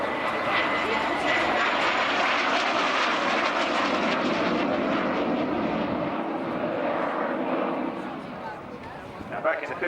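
A Jet Provost jet training aircraft roars loudly and steadily with a dense engine whine and rush, easing off slightly near the end; a voice talks over it.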